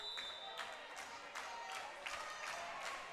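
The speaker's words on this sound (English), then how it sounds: "Lincoln Northstar fans on their feet with some claps here for set point" Fans at a varsity high school volleyball match between Westside and Lincoln Northstar clap at set point, a steady patter of scattered applause from a gym crowd with faint background chatter.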